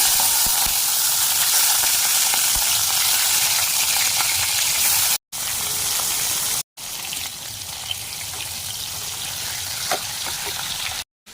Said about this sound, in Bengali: প্রথমে আমি চিংড়ি মাছগুলোকে একটু ভেজে নেব।